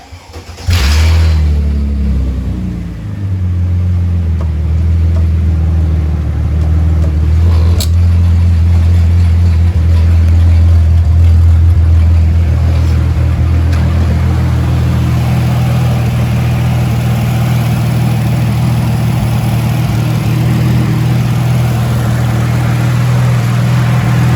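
A Mercedes SLK320 fitted with a nitrous kit cranks and fires up, then settles into a loud, steady idle close by for the rest of the time, with no talking.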